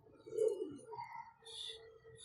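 A pigeon gives a soft, low coo close by, followed by quieter murmuring and faint chirps in a calm setting.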